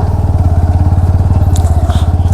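A motorcycle idles close by as its rider sets out from home on a rainy day, a loud, steady low engine throb with rapid regular pulsing.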